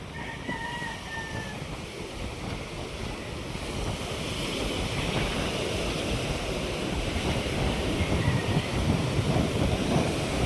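Sea waves washing onto the seashore after rain, a steady surf wash growing slightly louder, mixed with gusty wind buffeting the microphone, no voices.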